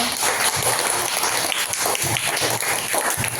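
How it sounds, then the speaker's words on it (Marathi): At a school quiz contest, a crowd gives steady, loud applause for all the participating students, with many hands clapping together from start to finish. "सर्व सहभागी विद्यार्थ्यांसाठी एकदा जोरदार टाळ्या वाजवा"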